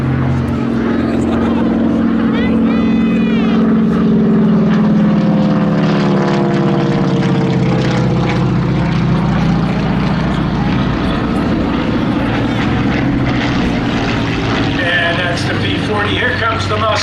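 A Nakajima Kate propeller warplane roars past close by at an airshow, its loud engine drone rising and shifting in pitch as it passes, steady and dominant throughout.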